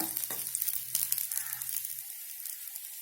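Drumstick-leaf adai dosa frying on a pan with oil drizzled around it over a medium flame, giving a quiet, even sizzle with a few small crackles and a brief low hum early on.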